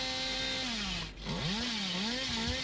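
The Hillbilly killer's chainsaw revs in the mobile game Dead by Daylight Mobile. The loud, sustained engine whine rises and falls in pitch, dips briefly midway, then surges again with no talking.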